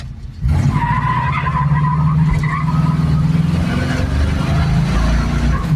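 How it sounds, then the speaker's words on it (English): A 1972 AMC Javelin AMX 401 engine roars as tires squeal loudly in a sustained screech while peeling out, the wavering howl holding steady for several seconds up close. "I'm going to peel out a little bit here"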